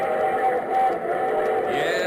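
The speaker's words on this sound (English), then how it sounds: "that's the sound of the locomotive whistle" A locomotive train whistle, played during a live radio theatre show, sounds as a sustained, chord-like tone held steadily for about two seconds, clear and fairly loud, with no talk over it.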